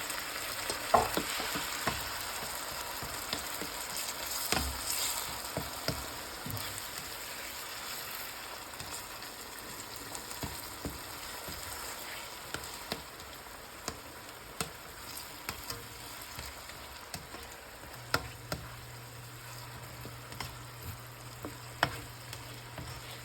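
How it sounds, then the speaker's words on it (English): Peeled tomatoes fry in an okra and tomato stew with mint, a steady close sizzle under irregular stirring scrapes and light spoon taps against the pot, with no talk throughout. "Give this a wonderful stir."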